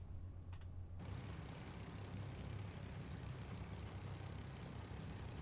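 A Spitfire's piston engine idles in the video game Microsoft Flight Simulator 2020, kicking in abruptly as a dense, steady low rumble that holds loud and even throughout, with no talk.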